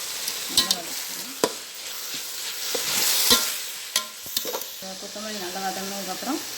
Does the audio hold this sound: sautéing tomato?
yes